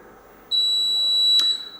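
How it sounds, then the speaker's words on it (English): A Barudan embroidery machine's control panel gives one sustained, high electronic beep, clear and close, as a design finishes loading into memory from USB. "When you hear that beep, that basically means that the design has been loaded into your memory."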